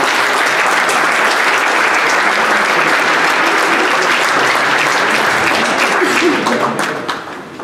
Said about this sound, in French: on peut les applaudir encore une dernière fois